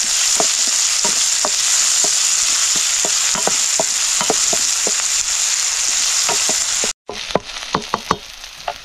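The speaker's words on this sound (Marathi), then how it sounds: "लसूण आणि कांदा. आता हे चांगलं परतून घ्यायचं आपल्याला." Onion and garlic sauté in a pan, a loud, close, continuous sizzle with regular spatula taps and scrapes as they are stirred, briefly cutting out before resuming with more clacks.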